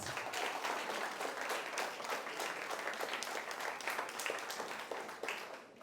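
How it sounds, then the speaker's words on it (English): A crowd of students at a junior high school event claps steadily in dense, continuous applause, the many hands blending into a full, even patter throughout. "Now please give yourselves a round of applause."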